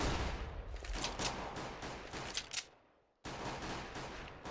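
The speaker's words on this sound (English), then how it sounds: "A lot of decoy nades by the terrorists coming out" Decoy grenades in Counter-Strike on the Inferno map during a tournament match, a dense rapid crackle of simulated gunfire bursts, loud and continuous, dropping out briefly before resuming.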